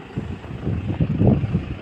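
Gusty outdoor wind at an elevated spot overlooking Taal rumbles and buffets the microphone, a steady low roar that swells in strength toward the end.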